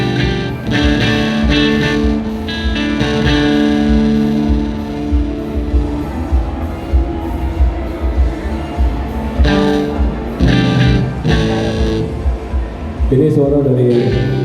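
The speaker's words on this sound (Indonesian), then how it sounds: "Ini suara dari mikingnya Blackstar ya." Electric guitar played through an overdrive pedal into a miked Blackstar amp, a steady distorted tone with sustained chords and shifting notes, loud and continuous throughout.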